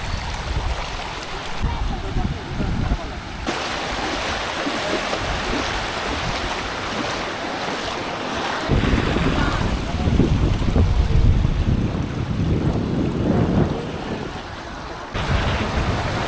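Swollen stream water rushes and roars past a bridge near flooded fields after a cyclone, a loud continuous churning that swells and eases, with gusty wind buffeting the microphone.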